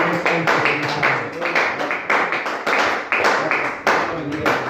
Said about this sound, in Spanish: Denle un fuerte aplauso de parte de Tijuana